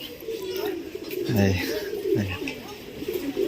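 Low, throaty pigeon coos repeat a few times nearby at the Monkey Temple in Kathmandu, Nepal, with a voice speaking at the same time and light background noise.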